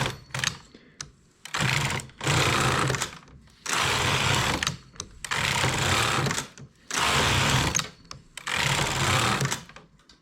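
A knitting machine carriage sweeps back and forth across a ribber bed with all needles set to normal, knitting six rows. Each pass is a loud, sustained mechanical whirring rush, separated by short pauses in a steady rhythm.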